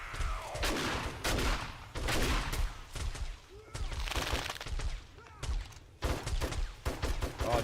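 Bursts of automatic gunfire and rapid shots hit enemies in the survival video game 7 Days to Die, coming in loud clusters with brief gaps, with voices talking over parts of it.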